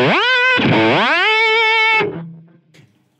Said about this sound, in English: Okay, how about a whammy pedal?